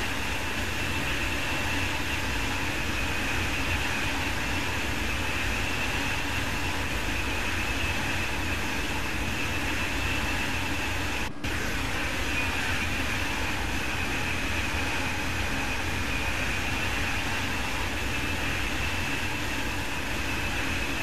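High-speed ICE train running on the Kassel–Würzburg high-speed line in Train Sim World 3, a steady dense rolling roar with constant hum and hiss, heard from the rear of the train, with one brief dropout midway.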